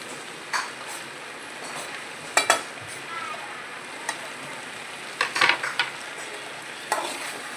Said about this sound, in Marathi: छान असं परतवते परत.